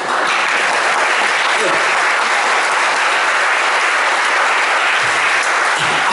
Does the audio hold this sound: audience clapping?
yes